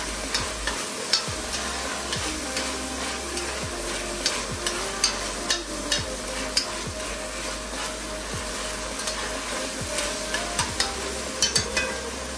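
Ground meat browns for chili with garlic added, sizzling steadily and loudly in a pan while a utensil scrapes and stirs in repeated strokes, close up and without talking.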